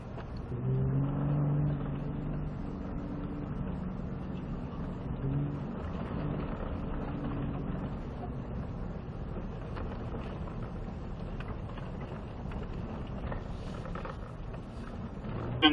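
A 2022 Ford Raptor pickup truck drives along an off-road trail, its engine a steady low rumble that holds nearly constant throughout, with no voices over it.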